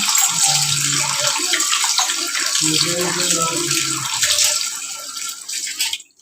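Tap water runs steadily and splashes while korameenu (murrel) fish are washed for a curry, a continuous close hiss and gurgle that fades away at the end.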